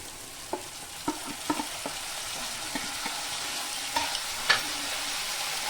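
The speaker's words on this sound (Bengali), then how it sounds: "আমি মশলাটা একটু ভালো করে কষিয়ে নেব।" Masala paste of turmeric, ginger-garlic and dried chilli paste with salt, frying for a koi fish curry, gives a soft steady sizzle while a spoon knocks the pan now and then, alone with no voices.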